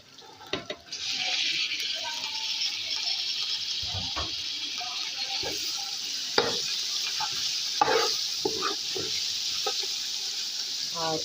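Vegetables tossed into a hot pan with golden garlic, ginger and cumin, stir-fried for egg fried rice: a steady, loud broadband sizzle with scattered scraping stir strokes and clatters throughout.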